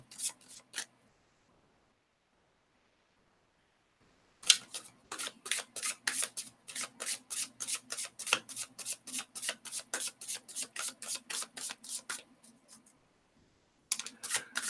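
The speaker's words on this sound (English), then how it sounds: "we're pretty much shuffled here, Samantha." Rapid riffle shuffling of a tarot card deck: a short burst, a pause, then a long run of quick, crisp, evenly spaced flicks, and a final brief burst.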